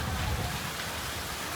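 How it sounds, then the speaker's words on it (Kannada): Steady rain falls in a village in North Karnataka as a dense, even hiss of drops striking surfaces, with a low rumble underneath and no voices. "ಬಟ್ ಚಂದ ಮಳೆ ಬರ್ಲತ್ತದ ಈಗ"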